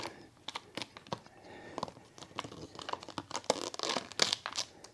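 Old vinyl car stripe material crinkles and crackles close up as it is peeled away and balled up, giving irregular sharp rustling bursts that grow busier toward the end.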